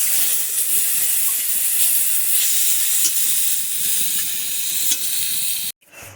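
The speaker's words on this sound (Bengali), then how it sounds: "আমার মাছগুলো ভাজা হয়েছে" Steady, close sizzling and crackling of Sylheti dried fish frying in a little hot oil, continuous and loud, cutting off abruptly near the end.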